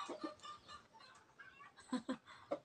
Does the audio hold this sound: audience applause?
no